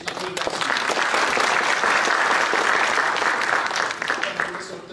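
Sustained audience applause for a professor at the opening of new laboratories at a state vocational college in Suwałki, a dense steady wash of clapping filling the room for several seconds before tapering slightly at the end.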